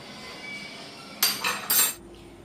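A metal karahi set down on a home stove to cook dalia, giving a few sharp metallic clanks and scrapes in quick succession, close and fairly loud against a quiet kitchen background.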